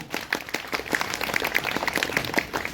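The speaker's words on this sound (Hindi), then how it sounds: "एक बार जोरदार ताली शायरों के नाम" An audience at a poetry and storytelling event in Patna claps for the poets, a fairly dense patter of many hands, moderately loud and sustained with no speech over it.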